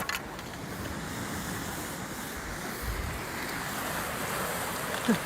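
Sea surf rolls steadily along a rocky shore near a cave, a continuous broadband wash of breaking waves with some wind noise and no voices.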